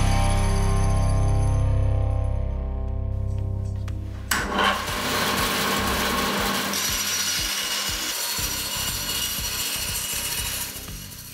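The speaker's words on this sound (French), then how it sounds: "J'utilise beaucoup ma scie à ruban." Band saw cutting through wood in a workshop while building a wood scrap bin, a steady close rasping whir with rough grinding texture running throughout, alone without speech.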